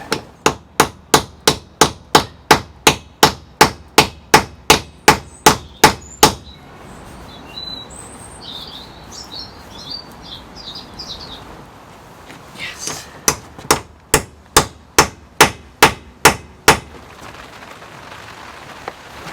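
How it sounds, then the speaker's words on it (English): Metal hammer striking an 18mm socket being forced onto a seized wheel nut on a VW T25 van, heard as loud, close, evenly spaced blows in two long runs of rapid strikes separated by a pause with faint birdsong. "Gonna have to try and beat an 18mm over it."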